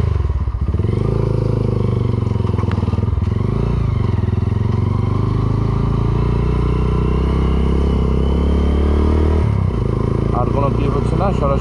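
A motorcycle rides a road between Sindukchari and Mohalchari in Bangladesh, its engine a loud, steady, close drone with a few shifts in pitch, accompanied by wind rumble and occasional rattles.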